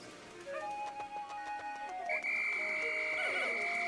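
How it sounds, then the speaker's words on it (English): The Pikmin whistle in a video game rings out as a chirpy tonal call, then a long sustained whistle tone with a rising warble at the end, set against game music and squeaky creature calls. "Look how much range our whistle has now."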